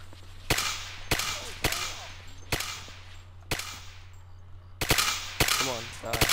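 Rapid video game gunfire from an M9SG weapon, sharp loud cracks in irregular bursts of single shots across several seconds, with faint talk in the background.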